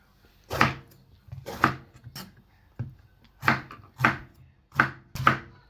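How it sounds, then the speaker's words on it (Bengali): A knife chops mixed vegetables on a board in sharp, separate strokes, roughly seven cuts spaced about half a second to a second apart, close and clear with nobody talking. "আমি কেটে সব সবজিগুলো রেডি করছি"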